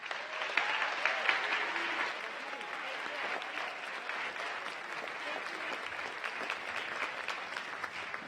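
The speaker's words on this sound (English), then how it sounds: "Please give a round of applause for Dee Barragan" Applause from an audience at a city's State of the City address, steady and sustained for several seconds, moderately distant with a full hall-like spread and faint voices underneath.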